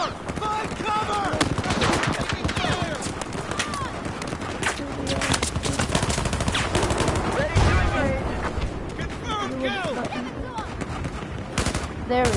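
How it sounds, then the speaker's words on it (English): Machine gun fire in the video game Battlefield: dense, rapid automatic bursts and scattered shots run almost continuously, with shouted voices mixed in over the fighting. "Machine gun! Incoming fire!"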